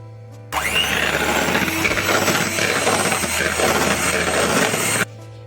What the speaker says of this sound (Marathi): तर आता आपण क्रीम फेटून घेऊयात